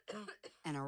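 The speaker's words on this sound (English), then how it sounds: "a raspy hacking cough ruins everything" A raspy, hacking cough in several harsh bursts, the last one longer and more voiced, close and fairly loud, with no talk around it.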